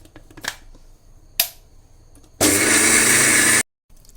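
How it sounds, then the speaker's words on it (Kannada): A mixer grinder blending coconut, rice and salt into smooth batter roars loudly for about a second after a couple of clicks, then cuts off abruptly to silence. "ಈಗ ಮಿಕ್ಸಿ ಮಾಡ್ತಿದ್ದೇನೆ."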